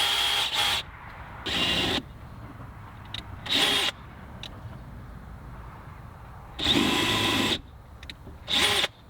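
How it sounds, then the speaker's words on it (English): A power drill bores into a Toyota Tacoma center console panel in several short bursts of whirring, each lasting about a second, separated by quieter pauses. "we're gonna just go ahead and drill into that panel"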